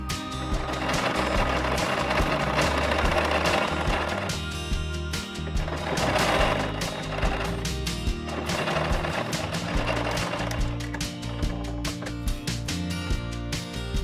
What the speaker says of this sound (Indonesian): sambungkan pola kerah polos ini pada kemeja dengan cara dijahit memakai mesin jahit